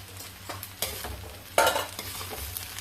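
A spoon stirs ground turmeric, coriander, cumin and black pepper into chole in a pan, producing a few distinct scraping clanks over a soft background sizzle, with no talking.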